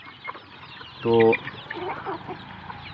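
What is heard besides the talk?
native desi chickens clucking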